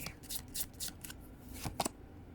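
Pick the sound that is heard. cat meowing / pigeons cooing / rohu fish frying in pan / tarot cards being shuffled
tarot cards being shuffled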